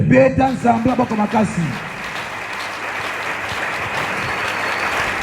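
A church congregation bursts into sustained, dense applause acclaiming God, rising right after a few words of preaching and holding steady and loud to the end.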